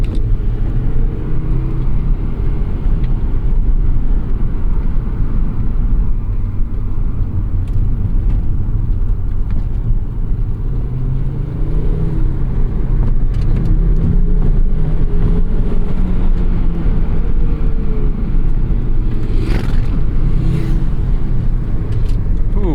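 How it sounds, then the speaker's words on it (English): Steady low rumble of a 2004 Volvo S60R's turbocharged five-cylinder engine while driving, fairly quiet and continuous under road and cabin noise, with no talking. "This 5-cylinder turbo engine, again, a little bit quiet."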